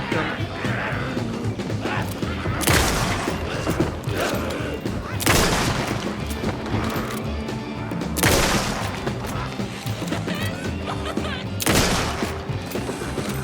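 Automatic weapon fire in the video game Alan Wake 2, dense bursts of shots with several louder booming blasts over a steady wash of game noise, with a voice talking at times.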